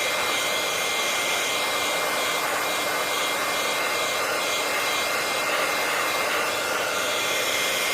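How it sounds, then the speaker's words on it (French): Heat gun blowing hot air to dry alcohol ink: a loud, steady, hissing whoosh like a hair dryer, close by and unbroken throughout, with no voices. "vous venez avec votre heat gun,"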